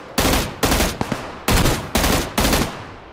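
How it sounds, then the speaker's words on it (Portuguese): Loud gunfire from the video game PUBG Lite comes in six sharp bursts, each a short rattling volley, spaced about half a second apart and heard with no talking. "Olha, tiro, tiro!"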